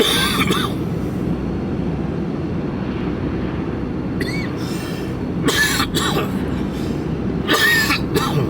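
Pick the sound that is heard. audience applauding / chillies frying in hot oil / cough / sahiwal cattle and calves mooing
cough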